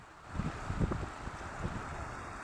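Floodwater surges aggressively into a previously dry stream channel, a broad, continuous rushing roar with some wind buffeting on the microphone.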